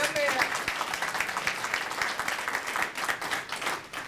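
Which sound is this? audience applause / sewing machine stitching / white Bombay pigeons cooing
audience applause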